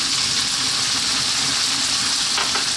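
Small pieces of bacon fry in sunflower oil over high heat, a steady close sizzle with faint stirring scrapes near the end, no voices.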